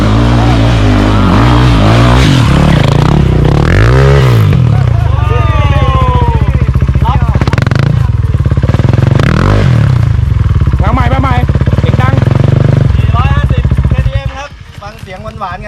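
A 450cc dirt motorcycle climbs a hill trail near Khao Nang Yong, its engine revving hard and close throughout with clattering and scraping, and a voice talks over it.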